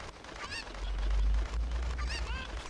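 Chicken clucking in the Ocarina of Time video game randomizer: two short bursts of squawking game-bird calls over a low, steady background rumble, with no talking over them.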